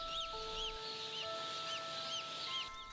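Many chicks peep repeatedly in a steady chorus over a constant mechanical hum at a hatchery processing line, high-pitched and continuous.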